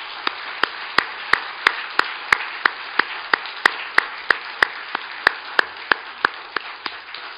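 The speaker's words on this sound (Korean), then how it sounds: "하나님께 영광의 박수를 올려드립니다." A church congregation claps along in a steady, evenly spaced rhythm of single sharp claps, about two per second, that sounds crisp and close over a low room hum, with no voices.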